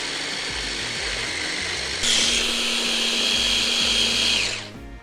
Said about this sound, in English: it's a case of blending that together until it's a homogeneous kind of butter